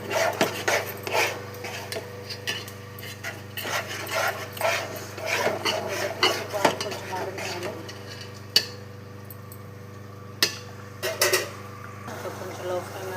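Spoon scraping and stirring drumstick and tomato curry with chilli and coriander powder in a pan, a series of uneven rasping strokes and light clinks over a low steady hum, with a voice speaking at times.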